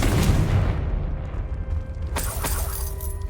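A Confringo blasting spell goes off in Hogwarts Legacy, a loud low booming burst up front, then a rumbling tail with crackling, shattering debris and a sharper second impact.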